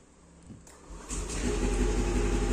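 A small motor scooter engine starts up and settles into a steady, rumbling idle, close by and growing louder.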